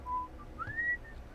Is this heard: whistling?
yes